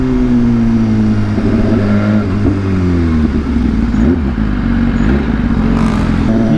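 A BMW S1000RR superbike engine revs loudly and close, its pitch climbing and dropping through several throttle blips with a steady mechanical clatter underneath and no voices.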